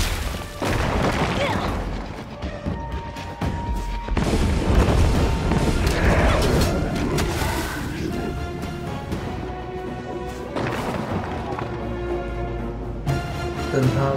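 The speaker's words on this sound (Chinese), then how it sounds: "大炮攻击！" Booming cannon fire in the action game Bladed Fury, deep repeated blasts rolling through a dense, loud mix of game effects and music with a voice speaking over it.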